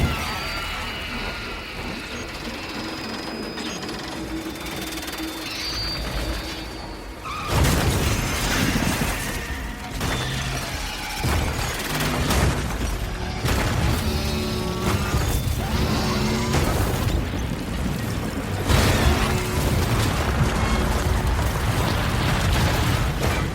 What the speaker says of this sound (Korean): 적들의 보급로를 차단하기 위해 민간 도로를 폭격하고